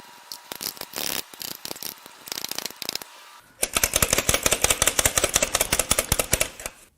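A ratchet wrench is worked back and forth to loosen a fuel injector on a BMW N54 twin-turbo engine. It makes short bursts of rapid clicking, then a longer, loud run of rhythmic ratcheting close by.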